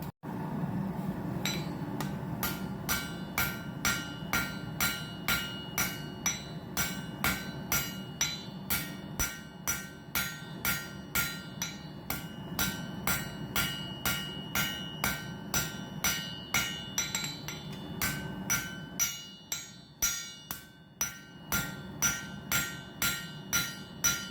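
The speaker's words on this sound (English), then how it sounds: "I'll probably switch over to a little bit smaller hammer and keep rounding this over" Steady, rapid hammer blows on a knife blade at a blacksmith's forge ring out one after another, loud and close, with a short pause near the end before the striking resumes.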